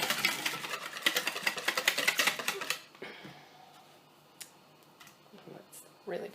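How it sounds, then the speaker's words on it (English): Two eggs being whisked together in a bowl for pumpkin spice bread batter: a quick run of rapid clicking strokes for about three seconds, then quieter kitchen clatter with a few scattered taps. "we put in the 2 eggs one at a time and just whisk them until they're combined"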